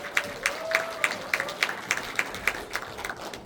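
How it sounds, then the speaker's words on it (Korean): A modest crowd at a political constituency report meeting claps as a speaker is welcomed. Rhythmic, fairly even claps stand out above the general applause, which is moderately loud and carries no speech. "큰 박수로 모셔보도록 하겠습니다"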